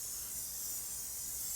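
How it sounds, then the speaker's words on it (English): Cooking spray hisses steadily from an aerosol can onto a pan in a home kitchen, a close, continuous bright spray lasting the whole moment with no talk over it. "Grab that spray for me and spray my pan for me."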